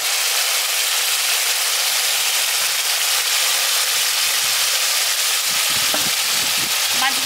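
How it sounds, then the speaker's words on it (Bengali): Fried rohu fish pieces slide into hot spice paste in a pan for a village-style fish curry, setting off a loud, steady, hissing sizzle up close, with faint scraping of a spatula near the end. "এবার ভেজে রাখা মাছগুলো আমি দিয়ে দিচ্ছি"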